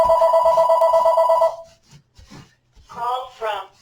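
Home landline telephone ringing with a loud steady electronic trill that stops after about a second and a half, followed by someone talking nearby.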